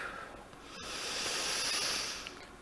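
A slow, deep breath is drawn and released during a guided meditation exercise, a soft airy hiss swelling and fading close to the microphone, with no talking.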